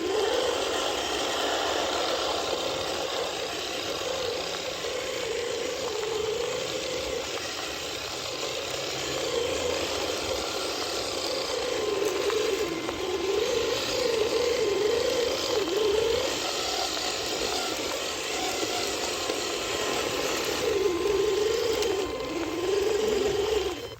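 An M5A1 Stuart 1/16-scale RC tank drives under throttle, its small electric motor and gearing giving a steady, continuous whine and mechanical drone with a wavering pitch, close and unbroken throughout.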